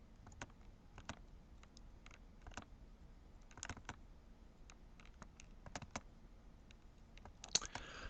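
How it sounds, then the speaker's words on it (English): Computer keyboard keys clatter in an irregular stream of typing while code is entered, quiet and close, with bursts of quick keystrokes and short pauses between them. "I'm going to start typing"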